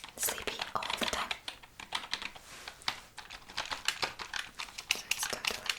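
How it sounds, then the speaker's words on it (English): Computer keyboard typing in quick irregular bursts, close and crisp, with dense clusters of key clicks and brief pauses, no voices over it. "this monotonous sound of keyboard typing"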